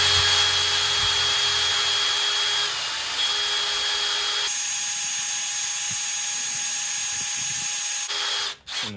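A drill bores out a broken stud in a Big Block 454 engine, a steady high-pitched whine that shifts pitch a few times, then briefly stops and restarts near the end.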